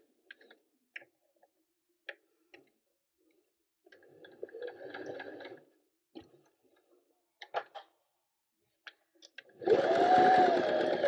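A sewing machine stitches an appliqué in slow, intermittent bursts, with isolated clicks as the flywheel is turned by hand at corners, then a short fast run of stitching at the end.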